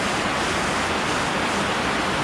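A creek rushes steadily through Looper Canyon on Vancouver Island, a dense, even wash of flowing water that stays close and fairly loud throughout, with no voices over it.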